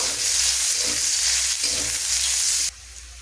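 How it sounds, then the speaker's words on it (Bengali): Chopped onion sizzles loudly and steadily in hot oil in a pan, close up with no talking, then drops abruptly to a quieter, softer fry near the end. "তারপর পেঁয়াজটাকে হালকা লাল করে ভেজে নেবো"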